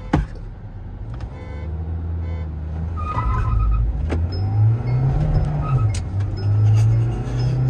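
Hyundai Creta and Mahindra Scorpio N launching side by side in a drag race, engines revving hard and building steadily over several seconds, loud and close, with faint tire and mechanical noises.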